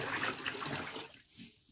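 Water poured into a container while making homemade bleach, a steady splashing rush that stops abruptly near the end and leaves a faint trickle, fairly quiet and with no talking.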